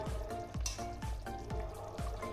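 Koftas drop into a simmering vegetarian papaya kofta curry with potatoes, giving a steady close sizzle and bubbling, broken by a few soft rhythmic thumps.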